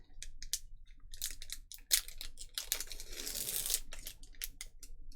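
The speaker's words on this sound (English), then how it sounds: "this is some good pack opening ASMR" Sealed vintage Pokemon Topps card packs are torn open up close, their foil wrappers ripping and crinkling in sharp bursts, with a longer zipper-like tear in the middle and no talking.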